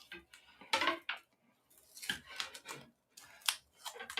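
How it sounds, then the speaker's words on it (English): Scissors cutting a skewer free from a cable, heard as several close, sharp metallic snips and clicks in uneven bursts separated by brief quiet pauses. "Use our scissors there."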